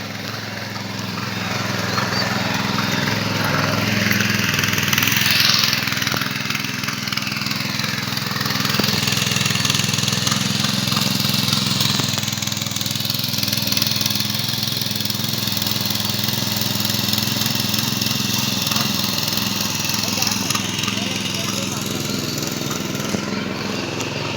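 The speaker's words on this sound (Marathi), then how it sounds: "बघा मंडळी अशा प्रकारे इकडे नांगरणी केली जाते ट्रॅक्टरने आधुनिक पद्धतीने" A tractor ploughing a flooded rice paddy in the Konkan region during transplanting season, its engine running steadily and continuously at mid distance with a constant drone throughout, no talk over it.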